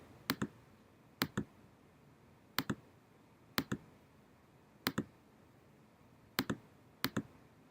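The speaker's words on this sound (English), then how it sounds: "you click and then it pins it down and you move to the next spot you want and you click, click, click" A computer mouse clicks in a steady series while shapes are built up point by point: seven quiet, close double clicks spaced about a second apart, with near silence between them.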